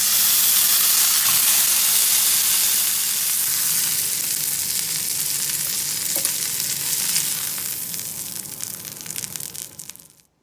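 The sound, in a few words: slow cooker cooking dinner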